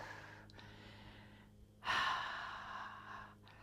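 Deep breathing during a gentle cool-down stretch in a strength workout: a quieter breath early on, then one long, strong exhale swells up close and fades slowly, followed by a short breath near the end.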